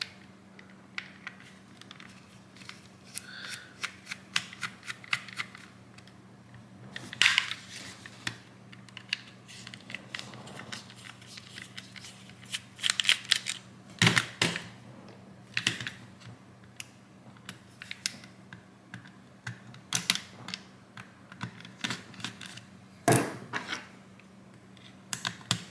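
Torx screws are worked out of a game controller with a small driver, giving close, quiet clicks and scrapes in irregular bursts, with a few sharper snaps and no talking.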